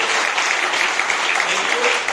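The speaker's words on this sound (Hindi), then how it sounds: "एक बार जबरदस्त तालियां जॉइंट डिस्ट्रीब्यूटर न्यू गेस्ट में स्वागत करेंगे।" An audience at a distributor meeting gives loud applause to welcome new guests, a dense, even roar of clapping that fills the whole brief moment.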